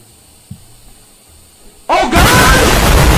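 In a video game, after a quiet stretch with a faint thump, a propane tank suddenly explodes loudly and continues as a roaring, crackling blast.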